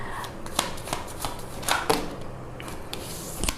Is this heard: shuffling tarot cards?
yes